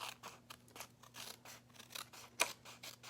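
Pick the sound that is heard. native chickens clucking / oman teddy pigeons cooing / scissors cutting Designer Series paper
scissors cutting Designer Series paper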